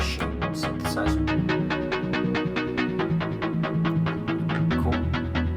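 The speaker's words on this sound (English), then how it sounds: "This is a bass that I have that I use Groove Machine synthesizer." A Groove Machine synthesizer bass in FL Studio, part of a track built from stock plugins, plays a steady repeating low line under layered plucks and rhythmic hits, continuous and full for several seconds with no voices.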